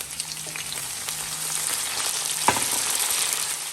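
Diced tomatoes hitting hot oil with onion in a pan make a steady, close sizzle, with a brief stir or clatter partway through.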